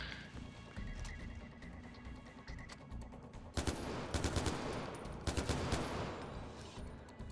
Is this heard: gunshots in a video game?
yes